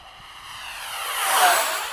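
An Arrows Hobby 64mm MiG-29 RC model jet whines past overhead, its high-pitched engine rising in loudness toward a peak before easing slightly, with a faint pitch shift.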